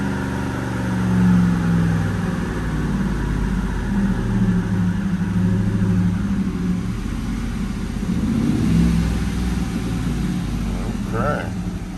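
A stock Hemi Ram truck runs on a dyno, its engine droning and climbing through an acceleration pull with shifts along the way. A voice speaks briefly over the steady engine noise.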